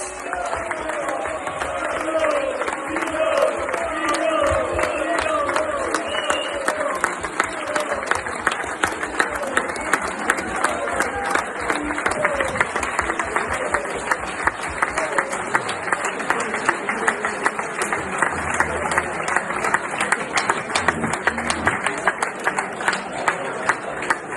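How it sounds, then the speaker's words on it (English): Crowd at a Coventry City FC evening event bursts into sustained applause, a dense continuous wash of clapping lasting the whole stretch with some chatter mixed in. "Massive round of applause to David Speedie for spending his time with"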